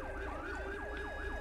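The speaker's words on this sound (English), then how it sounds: "Can I go ahead and shut our sirens off?" A video game emergency vehicle siren wails, sweeping up and down rapidly and continuously, sounding slightly distant and synthetic under a low hum, with no voices.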